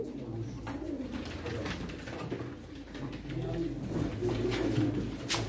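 Pigeons at a pigeon auction coo in soft, repeated low throaty calls, fairly close and continuous over a murmur of room noise.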